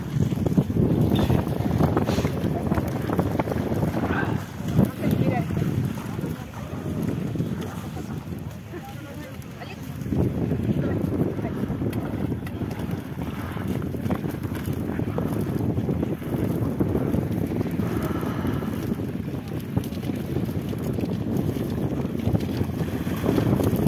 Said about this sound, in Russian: интервью долго не дашь на таком ветре-то